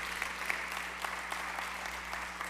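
Applause from a church congregation fills the room, a dense, steady wash of many hands clapping at a moderate distance.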